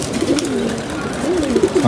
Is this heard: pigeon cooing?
yes